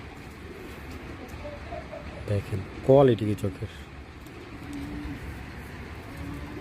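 Pigeons coo in a short burst of a few rising, warbling calls close to the microphone, over a steady hum of background noise, while someone talks nearby.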